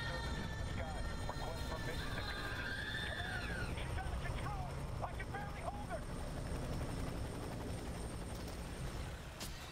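A helicopter in the video game FEAR produces a steady, close rotor drone that persists throughout, with faint voice-like sounds layered over it.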